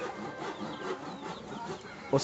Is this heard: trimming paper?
no